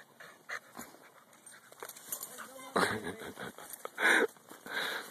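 A pit bull stuck up in a tree pants in quick, breathy bursts and whimpers now and then, close and fairly loud, with scattered rustling around it.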